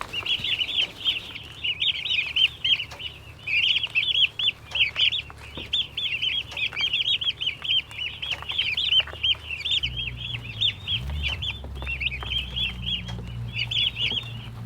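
Turkeys on a farm keep up a dense, high chatter of peeps and trills close by, with a low rumble of handling noise in the background and no talking.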